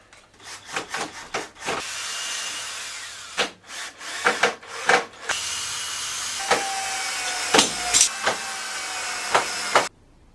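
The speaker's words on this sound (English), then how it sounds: "drill some holes and screw some screws." A power drill whirs in repeated short bursts, then runs longer as screws are driven in to add a tape rack to a mobile tool store, with brief pauses and clicks between.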